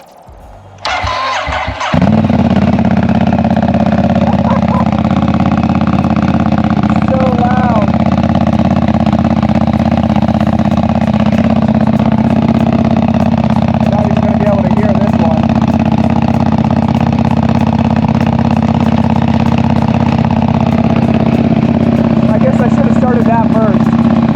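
A 2023 Ducati Panigale V4 superbike starts up and settles into a loud, steady, deep idle that runs close and continuous, with a voice faintly underneath at times.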